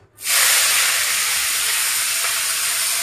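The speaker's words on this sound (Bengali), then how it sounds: "আমি সেই পেঁয়াজটা আমি তেলের মধ্যে দিয়ে দিচ্ছি" Sliced onions dropped into hot mustard-style fish-frying oil for a Bengali fish recipe, bursting into a loud, sudden, sustained hissing sizzle that stays strong and steady.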